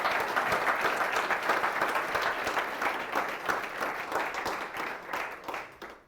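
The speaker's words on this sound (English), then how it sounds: "So a round of applause for our company making an impact finalists." An audience claps for award finalists at an impact awards event, a lively, fairly close burst of many hands with individual claps standing out, steady at first and then thinning and fading out toward the end.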